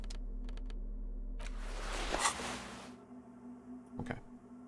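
A machine's keyboard being typed on inside the video game Disco Elysium, a few sharp clicks then a dense clattering burst over a steady low electrical hum, followed by a couple more distinct taps.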